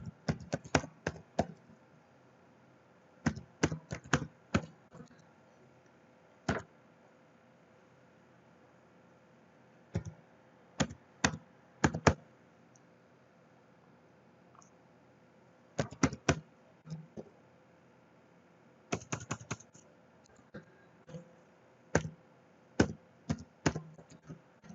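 A password being typed on a computer keyboard in short bursts of quick, close key taps separated by pauses, crisp and isolated against a quiet background.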